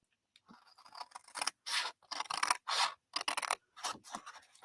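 Scissors cutting a rectangle out of paper or card for a box: a series of short, crisp snipping and scraping bursts, close and fairly quiet, with brief pauses between cuts and no talking.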